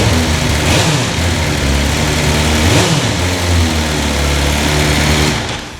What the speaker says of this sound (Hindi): तो ये थी आपकी स्टॉक मोटरसाइकिल की आवाज़